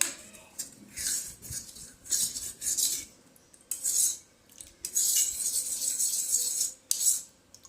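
A spoon stirring milk with almonds for a badam shake, scraping and clinking against the sides of a bowl in repeated bursts of varying length, close and fairly loud, with no talking.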